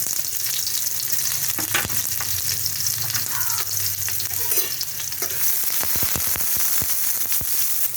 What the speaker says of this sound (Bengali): এখন আমি কড়াইতে তেল দেব, তেলটা গরম হয়ে গেছে। এখন আমি দেবো এর মধ্যে কালো জিরে দেবো, কিছুটা পেঁয়াজ কুচানো দেবো